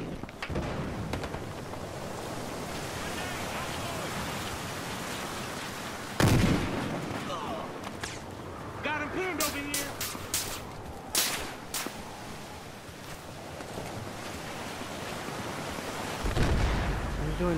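Gunfire and explosions from a Battlefield Hardline team deathmatch crackle through the mix, with sharp bursts, repeated loud cracks and booming hits over a constant busy din, and players' voices heard now and then.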